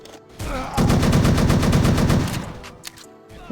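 Video game gunfire, a rapid automatic burst of loud close shots lasting nearly two seconds, followed by a few scattered single shots.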